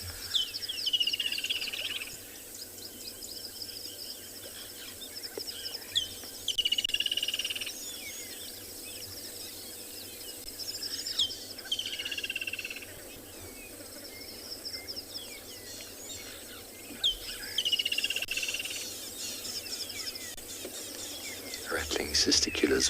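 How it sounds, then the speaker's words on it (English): Rattling cisticola calling repeatedly on a South African morning safari, short dry rattling phrases recurring every few seconds, faint and distant over a low background hum. "Rattling cisticula is always very noisy."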